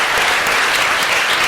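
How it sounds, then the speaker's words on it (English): A round of applause for a speaker at a university talk, with dense, even clapping from the audience that holds steady and loud throughout. "Let's give a round of applause to Dean Dan Schwartz."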